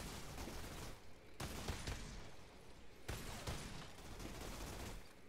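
Rapid gunfire from weapons in the video game Outriders: several quiet, sharp bursts of shots in quick succession, separated by brief lulls, with no talk.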